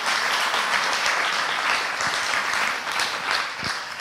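Sustained applause from a conference audience at an unconference for an EU city project, thick and even with no breaks.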